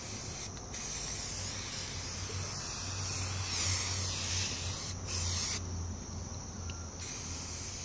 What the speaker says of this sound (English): I'm even repainting the ones, spray painting the ones that were already done.